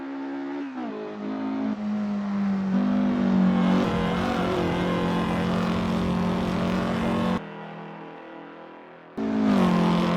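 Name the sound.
vintage race car engine revving at speed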